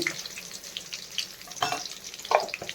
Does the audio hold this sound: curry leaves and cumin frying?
yes